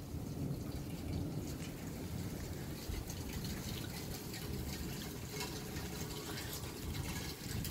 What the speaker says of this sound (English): the rain is trying to go sideways again